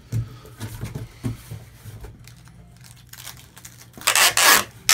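Packing tape pulled and pressed onto a shipping box, with scattered rubbing and crinkling sounds and a loud, harsh tearing screech near the end.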